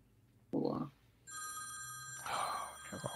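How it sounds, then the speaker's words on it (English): A telephone rings with a steady electronic tone during a live online stream about luxury watches, sounding clear and fairly loud and lasting a couple of seconds, with brief bursts of talk before and after it. "That's him ringing you, Arch."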